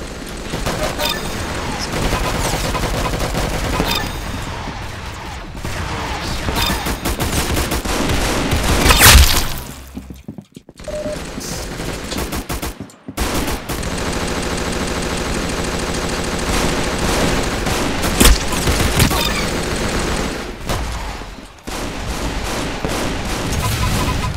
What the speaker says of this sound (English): Fireworks launching?